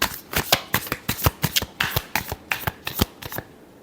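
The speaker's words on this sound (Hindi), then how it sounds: "last shuffle" Tarot cards being shuffled by hand in a series of quick crisp riffles and slaps, about a dozen sharp close-up bursts in a steady rhythm, with no voices.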